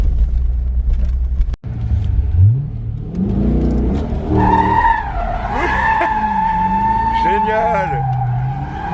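A Chevrolet Corvette C5 V8 doing a burnout: a rising engine rev followed by sustained, loud tire squeal and skidding that wavers in pitch, with people talking over it.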